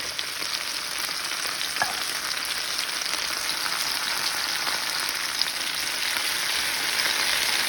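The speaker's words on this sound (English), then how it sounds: "So now all you're going to do is you're going to saute that and stir them" Drained diced tomatoes with green chilies, Aldi brand, sautéing in a pan with vegetables for chicken fajitas, a bright even hiss of frying with light stirring taps, steady and close.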